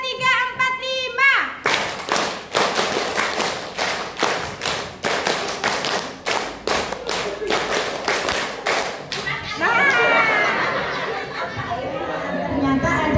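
A group of adults at a school workshop claps in sharp repeated bursts, loud and close, many distinct claps in a rhythmic run, with voices talking before and chatter rising afterward.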